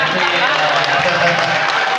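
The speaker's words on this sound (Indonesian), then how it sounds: "Tepuk tangan untuk Yafi luar biasa" A crowd applauds at a social aid handover event, steady and loud for the whole stretch, with voices mixed in.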